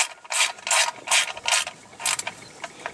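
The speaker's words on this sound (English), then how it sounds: "we'll go and get the wrench real quick" A ratchet wrench tightens an oil drain plug on a BMW E36, giving repeated bursts of sharp clicking in short strokes, close and clear, with no voices.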